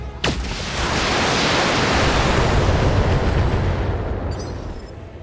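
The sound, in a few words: mech weapons firing and exploding in the video game BattleTech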